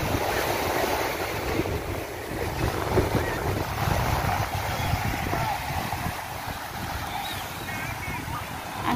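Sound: sea waves at high tide, Stanley Main Beach

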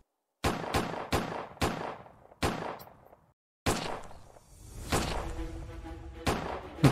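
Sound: gunfire

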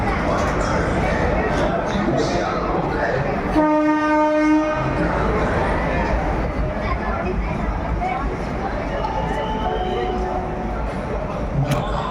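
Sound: train departing on rails

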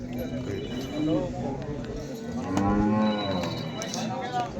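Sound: buffalo mooing at Mansa livestock market

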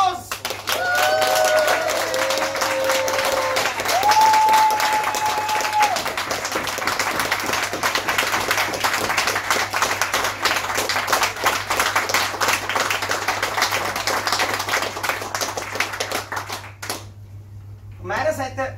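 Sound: audience applause in a pub

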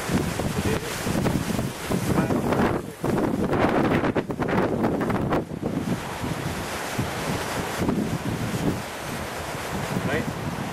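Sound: wind blowing at a beach campsite

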